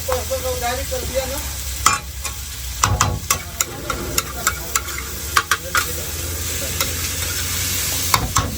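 Onion and tomato sizzle in hot oil spiced with ginger, cumin and chilli for egg bhurji. A steady fry is broken by repeated scraping stirs and clinks of a spatula against the pan.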